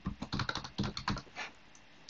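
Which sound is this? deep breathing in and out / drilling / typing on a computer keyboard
typing on a computer keyboard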